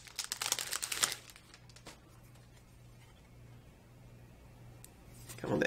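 A Yu-Gi-Oh Code of the Duelist booster pack's foil wrapper being torn open, giving a close, sharp burst of crinkling that fades into quiet and then returns briefly at the end.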